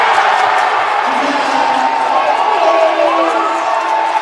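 A college men's basketball crowd keeps up a loud, continuous roar of cheering and shouting in the arena, with a voice faintly over the din.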